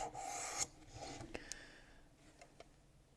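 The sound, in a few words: knife sharpening on 600 grit stone, WorkSharp Precision Adjust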